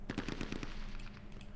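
Heavy machine gun fire in a video game set during a 1968 military raid in Jordan, a rapid burst of repeated shots in the first half that tails into a rumbling echo and distant firing.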